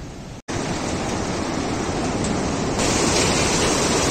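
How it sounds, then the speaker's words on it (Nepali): The Dudh Koshi river rushes below a swaying suspension bridge on the trail from Lukla to Namche Bazar, a loud, unbroken roar after a brief dropout at the start, growing slightly louder toward the end. "ल हेर्नुहोस् दुधकोसी नदी, आहा कति मनोरम तरिकाले बगिरहेको छ"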